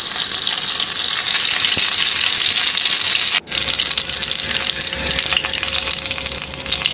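Curry leaves crackle and hiss in hot coconut oil, a loud, dense, steady sizzle close by with a brief dropout midway.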